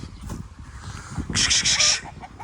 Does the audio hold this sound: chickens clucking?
yes